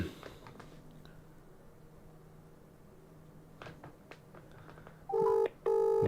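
A quiet stretch of faint rustling and clicks, then a telephone rings twice with loud electronic trills near the end.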